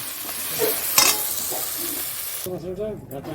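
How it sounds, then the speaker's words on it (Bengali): A spoon stirs spice paste through khichdi in a pan, scraping and clinking over a steady sizzle, with a voice talking near the end. "মশলাটা দিয়ে এবার ভালো করে নাড়াচাড়া"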